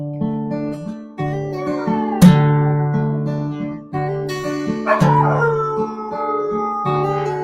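A dog howls in long, drawn-out, wavering tones that repeat several times, loud and close, with no talking over it.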